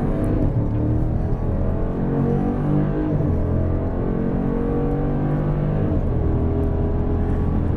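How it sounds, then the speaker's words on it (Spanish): A 2014 Jeep Grand Cherokee SRT driven on a race track, its engine and Sport-mode transmission giving a loud, continuous onboard drone with shifting pitch as it pulls through gears, and no talking. "La transmisión, la que escuchamos, está en la secuencia Sport."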